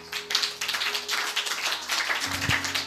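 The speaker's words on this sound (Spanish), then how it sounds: "Denle un aplauso a Cristo" A church congregation breaks into brief, steady applause, many hands clapping together over a soft sustained musical tone in the background.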